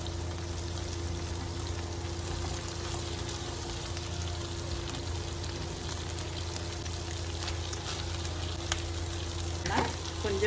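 Cabbage stir-fries in a pan with ginger garlic paste, a faint, steady sizzle running under a low background hum, with no talking.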